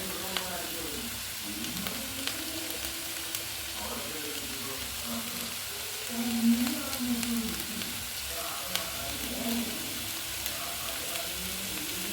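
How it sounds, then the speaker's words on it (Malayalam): Onions sauté with rock salt in a pan, a steady low sizzle running throughout with a few soft stirring scrapes and a slight swell midway, no talking over it. "ആദ്യം സവാള ഇട്ട് വഴറ്റുക."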